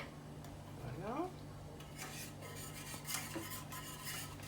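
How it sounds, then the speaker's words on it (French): A spoon stirs a cappuccino cream preparation in a pan, producing soft, faint scraping and light clinks against the metal, quiet and close, under a low steady hum. "Évidemment, il faut tout bien mélanger."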